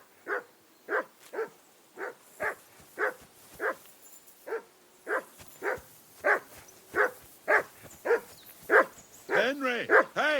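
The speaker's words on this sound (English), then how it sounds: "Call off that mutt of yours!" A dog in the medieval role-playing game Kingdom Come Deliverance II barks repeatedly in an even rhythm, about a dozen loud, close woofs, ending in a quick flurry of higher yelps and whines.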